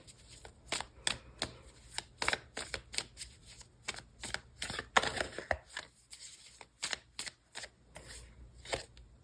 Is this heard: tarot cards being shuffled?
yes